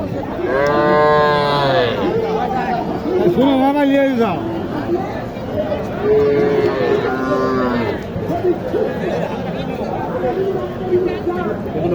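Cattle at a village cattle market in Naogaon moo loudly several times, long drawn-out calls near the listener, over a constant murmur of crowd chatter and people talking.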